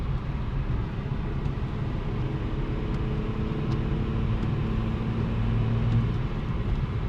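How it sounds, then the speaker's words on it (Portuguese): A steady low engine drone and road rumble heard from inside a moving car imported from Germany, constant and unbroken with no voices. "Um barulhinho muito engraçado este motor."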